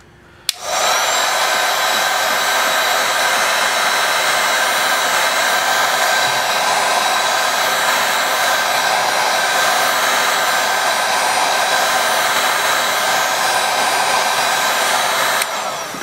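A heat gun blows steadily on the back glass of a Motorola One phone, switching on with a click into a loud, constant whooshing fan roar that stays level for about fifteen seconds before tapering.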